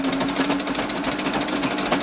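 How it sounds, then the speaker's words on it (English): A treadle sewing machine stitching patchwork skirt fabric at high speed makes a close, rapid, even mechanical chatter with a steady hum underneath and no talking. "And that also will show you that you don't have to go slow on a treadle machine."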